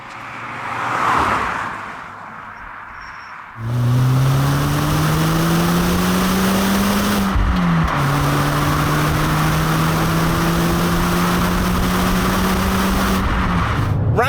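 A Fiat Panda 100HP with a 100 horsepower engine drives over bumpy Norfolk back roads, its engine droning and rising through the gears close up, with a brief shift dip midway and steady road noise beneath.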